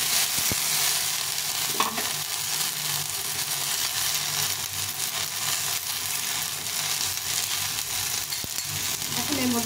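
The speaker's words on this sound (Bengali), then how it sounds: "ভেন্ডিটাকে কিছুক্ষণ ভেজে নিতে হবে" Okra (bhindi) frying with onions in a pan, giving a steady, close sizzle throughout with a few light stirring scrapes and no talk.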